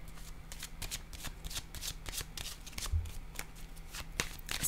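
Tarot cards are shuffled and laid down close by: quick rhythmic riffling flutters and soft slaps repeat over several seconds at low volume, with no speech.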